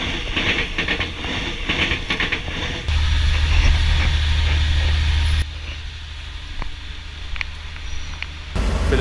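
Inside a sleeper train on a stormy night, a steady rumble of the running carriage with hiss and faint rhythmic clicks, shifting in loudness as sections change, with no talking.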